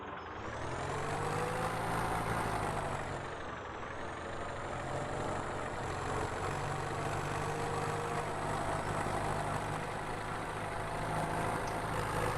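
A heavy tractor engine in an old-school farming game on the Chellington map, running at a steady low drone. The pitch sags briefly near the start before settling into an even, continuous hum with no other sounds.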